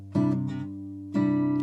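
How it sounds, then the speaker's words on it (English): Acoustic guitar in a finger-picking style: a plucked chord rings, then strings are pressed quiet with the fingers and released, a second pinched chord sounding near the end, close and clear with no voice. "he kind of he like mutes with his fingers"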